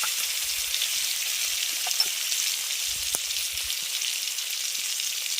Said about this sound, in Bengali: এবার টমেটোটাকে একটু ভেজে নিলাম